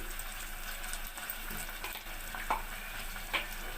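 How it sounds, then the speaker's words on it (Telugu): Ginger garlic paste sizzles steadily in a hot pan of oil while cooking a cabbage chana dal curry, a close, even hiss with a few light stirring scrapes and no talk. "ఇప్పుడు అల్లం వెల్లుల్లి పేస్ట్ వేస్తున్నానండి"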